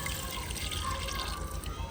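Yakhni stock pours into a pot of beef pulao in a steady, close, gurgling stream of liquid with no talk over it.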